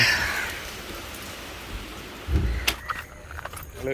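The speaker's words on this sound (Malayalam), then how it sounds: "ഇപ്പോഴും മഴ." Steady rain patter fills the first half, then a few louder close knocks and clatters break in near the end.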